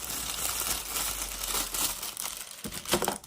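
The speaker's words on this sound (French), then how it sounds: "ça fait du bruit avec les emballages" Plastic packaging crinkling and rustling close up while a black paintbrush kit is unboxed, continuous handling noise with sharper crackles near the end.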